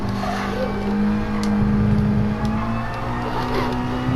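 A Mazda Roadster touring car in GT Sport revs loud and close under race conditions, its engine note dipping and climbing through sharp, aggressive downshifts, with faint tire noise and no speech.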